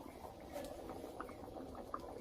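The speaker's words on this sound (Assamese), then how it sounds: "মোৰো আঞ্জাখন ধুনীয়াকৈ উতলি আছে," A pot of curry simmers and bubbles quietly, with soft irregular popping and patter over a low steady background hiss.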